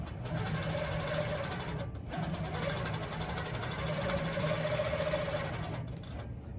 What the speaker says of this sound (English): I'm going to turn my channel lock on and I'm just gonna stitch this down.